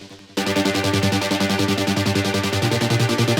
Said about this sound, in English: So if I just play the synth parts.